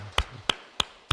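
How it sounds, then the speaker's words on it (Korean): Four crisp, evenly spaced claps ring out close by at a Korean church Sunday worship service, each a sharp separate smack with quiet between. "우리 하나님께 감사의 박수하겠습니다."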